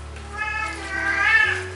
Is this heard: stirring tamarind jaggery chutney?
no